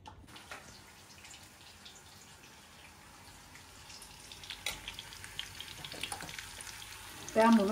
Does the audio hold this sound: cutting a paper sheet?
no